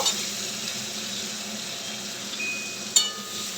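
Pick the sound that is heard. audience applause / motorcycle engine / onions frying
onions frying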